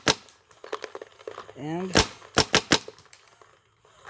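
Paintball marker firing paintballs fed by an HK Army TFX3 loader, ultra-fragile paint: a ragged string of sharp, close pops, some in quick pairs, with a brief spoken word and a short tonal whir partway through.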